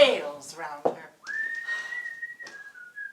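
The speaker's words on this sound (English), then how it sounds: "The cook whistles in the kitchen." A cook whistling in a kitchen: one long, steady sustained tone held for nearly two seconds that dips slightly at the end, preceded by a few short chirps, close and clear, with spoken voices just before it.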